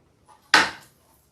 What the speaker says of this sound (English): I get out my bread knife. Go back over here. Cut that on an angle.